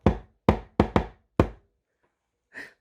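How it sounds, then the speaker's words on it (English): Knuckles rap a door in a coded pattern, five sharp, close knocks in an uneven rhythm (one, then two quick, then one more), followed by a brief faint sound after a pause. "She pricked up her ears as she heard a secret coded knock at the door."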